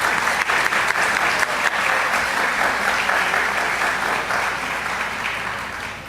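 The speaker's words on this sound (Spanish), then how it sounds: "Y ahora un aplauso para Rodolfo Ascanio" Sustained audience applause at a theology lecture event fills the room, dense and even clapping that stays loud and fades slightly toward the end, with no voices over it.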